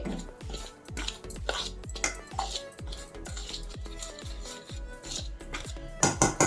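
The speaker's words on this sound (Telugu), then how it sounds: "బాగా కలిపేసుకుందామండి." A spoon stirs grated carrot with milk powder and sugar in a metal pan, a steady rhythm of close scraping clinks against the metal, with a louder clatter right at the end.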